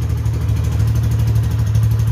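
A 2011 motorcycle with about 5,000 km on it idles steadily after a morning start, a close, even low engine hum with a faint pulsing rhythm and no talk.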